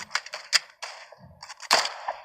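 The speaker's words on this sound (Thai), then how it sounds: "ปืนพกยิงเลย" Pistol shots in the WW2 shooter game Ghost of War: several sharp, snappy cracks in quick irregular succession, close and moderately loud, with a brief low thump between them and no talk.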